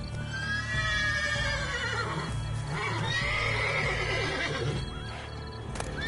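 A horse in The Witcher 3: Blood & Wine neighs loudly and at length with a wavering whinny, over a low game ambience and soft clip-clop of hooves, with no talk.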